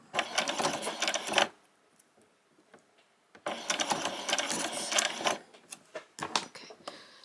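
A home sewing machine stitches a white summer top in two fast, whirring bursts, each lasting well over a second and separated by a quiet pause, with a short stop-start stitch near the end.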